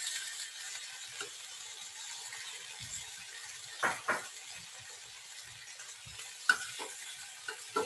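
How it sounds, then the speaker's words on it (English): Tomato and its juice sauté in a pan with a faint, steady sizzle, broken by quiet clinks and scrapes of stirring, some sharper than others. "I'm gonna saute this up."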